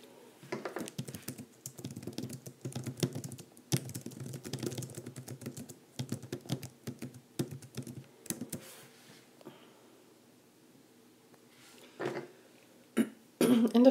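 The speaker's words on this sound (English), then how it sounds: "So let me type that in here." Quick bursts of typing on a computer keyboard, close and fairly faint, pause briefly before a cough and throat clearing near the end.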